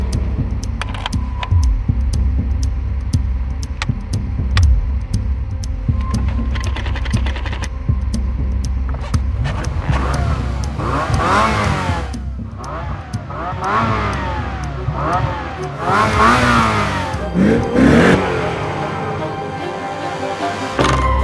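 A 2025 Corvette ZR1 accelerating hard, its engine roar climbing in repeated rising sweeps and swelling loud and close in the second half, after an opening stretch of sharp clicking ticks over a low rumble.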